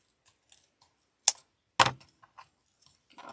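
Two crisp scissor snips cut through paper while a Christmas coffee cup arrangement is being assembled, sharp and close, separated by a short pause against near silence with faint handling rustles.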